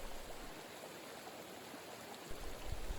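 A flowing creek beside a Colorado Trail path, a faint continuous rushing wash of water that rises slightly toward the end, with no voices.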